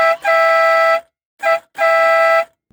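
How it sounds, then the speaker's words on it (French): A salvaged car horn, recovered through magnet fishing and being tried out, sounds three loud, steady blasts close by: a long honk, a short toot, then another long one, with clear gaps between. "Il n'y a plus qu'à essayer le klaxon."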